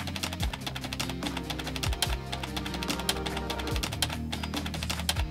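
Rapid clicking of computer keyboard keys while someone fills in an online registration form, a steady busy patter of keystrokes over low background music-like hum with no talking.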